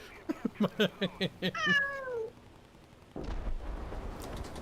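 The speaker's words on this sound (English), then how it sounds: "That's the sound of a cat that never gets fed right there." A hungry cat meows repeatedly while being held, a quick run of about eight short, loud meows followed by one long drawn-out wail, then a burst of rustling handling noise.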